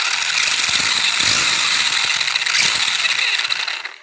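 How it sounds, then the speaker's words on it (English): Redcat Blackout Pro SC RC truck with its electric motor revved up, giving a sustained loud high-pitched whine with a gear-driven rattle that holds steady and then tapers off near the end. "right now, I'll give it some throttle."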